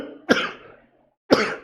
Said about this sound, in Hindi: इसलिए खांसी आ रही है